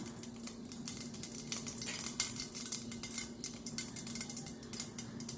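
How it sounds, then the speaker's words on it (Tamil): Mustard seeds popping and crackling in hot oil while tempering for South Indian rasam, a continuous close spattering sizzle with quick irregular pops. "இப்போ தாளிப்பு பாத்திரலாம் தேவையான அளவுக்கு எண்ணெய் விட்டுக்குங்க. கடுகு சேர்த்திக்கலாம்."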